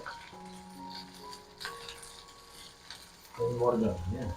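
Ivy gourd and curry leaves frying in oil in a kadai, a soft steady sizzle with faint tonal hum that grows louder and busier near the end as the pieces are stirred.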